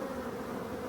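Honeybees drone steadily at an opened Voirnot hive during a brood-box change, a dense, continuous near buzz with no voices.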